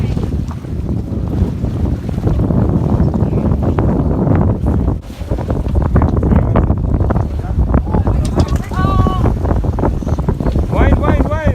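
Strong wind buffets a fishing boat out on the water off Mexico, a loud, steady roar filling the whole stretch with only slight gusting shifts, while voices call out faintly near the end.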